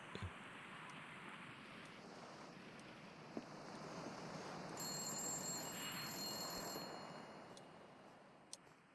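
An old-fashioned telephone rings in the Soviet-era sci-fi horror video game ASPIS. The ring comes in thin, faint bursts over a low ambient wash, starting about halfway through.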